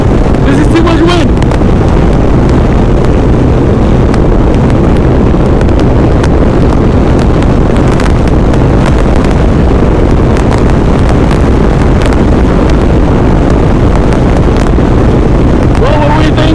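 Strong wind in a sandstorm during a group ride, a constant, loud roaring buffet pounding the microphone for the whole stretch, with voices faintly shouting beneath it.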